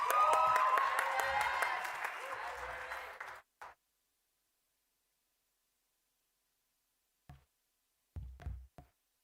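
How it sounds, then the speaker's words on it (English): Audience applause at a tertiary institution debating challenge, a loud burst of mixed clapping that fades and stops after about three and a half seconds, followed by near silence with a few faint knocks. "Round of applause for her, please"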